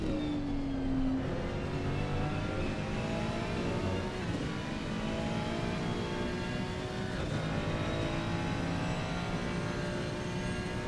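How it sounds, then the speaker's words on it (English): Ferrari V6 and Ford Mustang V8 race car engines howl together in a sim racing game at the Red Bull Ring, a loud, steady blend of high-revving tones rising and falling through gear changes, with no talk. "That V6 Ferrari up against 2 V8 Mustangs."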